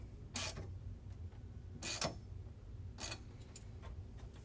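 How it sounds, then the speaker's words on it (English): A bolt on a flat TV ceiling mount with tilt and swivel is tightened, giving three or four sharp ratcheting clicks spaced about a second apart, faint and close, with no talking. "Now we're just going to tighten down the bolt in the back."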